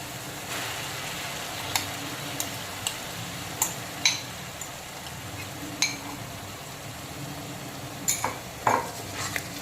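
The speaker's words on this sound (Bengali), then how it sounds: "এখন টক দইটাকে ভালো করে পেঁয়াজ বাটার সঙ্গে মিক্সড করে নেব।" Whisked sour yogurt being stirred into browned onion paste in a pan, with soft scraping and sizzle broken by scattered sharp ticks of a spoon against the pan.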